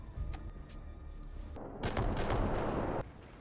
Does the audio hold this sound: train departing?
no